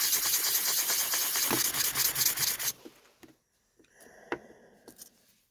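Close, continuous rasping rubs of rough Rainbow Mountain opal for a few seconds, then it stops, leaving a few soft scrapes and light taps.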